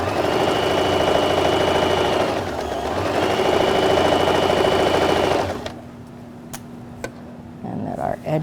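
A sewing machine stitches the inseam of pajama bottoms at the 5/8 inch seam allowance, whirring steadily for about five seconds with a brief dip. It then stops, leaving a quiet background with a few faint clicks.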